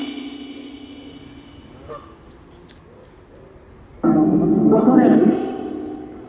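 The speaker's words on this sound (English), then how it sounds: "There is a Canadian goose heading my way." A Canada goose at a nature reserve honks loudly and close for about a second and a half, after a quieter stretch where someone talks and faint background sounds pass.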